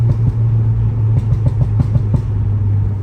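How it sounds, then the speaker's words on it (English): Steady engine drone of a Stage 3 tuned Volkswagen Polo GTI with a series of irregular sharp pops and bangs from the exhaust, loud and close, running throughout. "Hear the pop and bangs."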